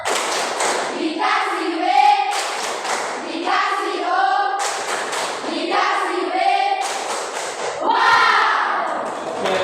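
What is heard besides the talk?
rhythmic hand clapping game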